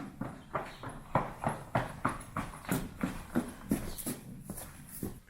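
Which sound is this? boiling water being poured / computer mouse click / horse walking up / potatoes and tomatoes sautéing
horse walking up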